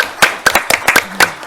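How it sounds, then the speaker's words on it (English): A handful of people at a city council meeting clap sparsely, giving about eight separate sharp, close hand claps at an uneven rhythm. "can we have a round of applause for"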